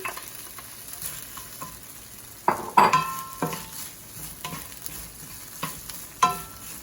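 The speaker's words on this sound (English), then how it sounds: "let it simmer for a little bit, and add our peppers in there" Peppers stirred into simmering pad thai noodles in a hot pan, a soft sizzle broken by sharp metal utensil scrapes and clanks against the pan, some ringing briefly, heard up close.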